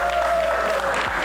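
Crowd applauds a player at an esports LAN championship, a brief, loud, continuous burst of clapping.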